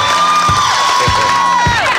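A crowd claps and cheers in honour of a custom motorcycle built for the National Guard by Orange County Choppers, the Teutul family's shop. Steady applause and excited shouts stay loud and dense throughout, close and continuous.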